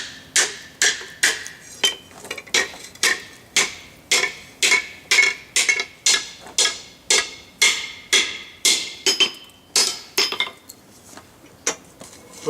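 Hammer striking a hot piece of a Lewis lifting device during forging and bending, a steady series of sharp metallic blows at a brisk, even rhythm, close and alone.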